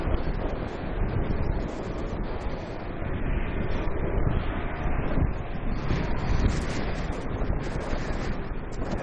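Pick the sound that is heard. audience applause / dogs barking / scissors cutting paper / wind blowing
wind blowing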